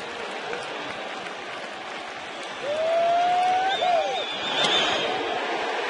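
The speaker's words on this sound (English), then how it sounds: "This crowd having a blast." A baseball stadium crowd at an NLDS playoff game keeps up a broad, steady roar that swells louder midway, with a faint whistle gliding above it.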